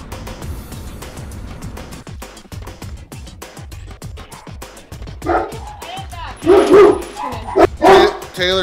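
Puppies bark and yip in short, repeated bursts that grow louder toward the end, with voices talking underneath.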